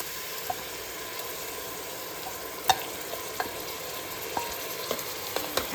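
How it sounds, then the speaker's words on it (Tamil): Ground tomato and onions sauté in a pan for hotel-style tomato rice, with a steady close sizzle and a few sharp clicks of a spoon stirring against the pan. "போட்டு நல்லா வதக்குங்க"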